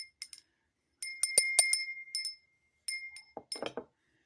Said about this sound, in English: oh, this beautiful, beautiful bell.